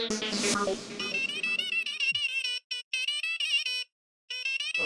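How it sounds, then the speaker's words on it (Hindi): A phone rings as a call goes through, giving a bright electronic ringtone melody that repeats in quick bursts with short gaps, loud and alone. "अय्यर भाई के फोन पे फोन करता हूँ।"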